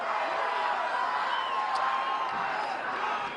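Large crowd cheering and whooping at a political victory speech after a recall election win, a steady dense roar of many voices throughout with no letup.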